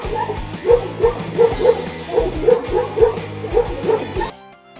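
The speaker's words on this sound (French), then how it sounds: "Cet ours s'est attaqué au mauvais chien et il a été remis à sa place." A dog barks, yips and whimpers in rapid, repeated bursts while fighting off a bear, loud and close throughout before cutting off abruptly near the end.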